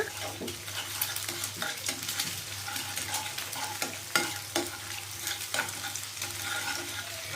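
An egg sizzles in a hot pan, a constant crackling hiss with occasional scraping stirs, close and without any talking.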